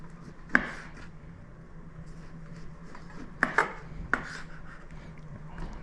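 A knife slicing through skin-on celeriac on a board, a few separate crisp cuts ending in sharp knocks on the board, one early and a cluster later, close and fairly quiet against a low background hum.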